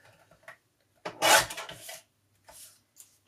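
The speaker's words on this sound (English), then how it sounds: "So I'm going to trim off a little bit on this edge" Paper panel being trimmed along one edge for a weekly planner decoration: a few short dry rasping cuts, the loudest burst in the middle, close and alone without talk.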